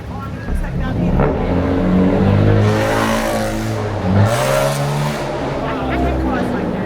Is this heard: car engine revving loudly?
yes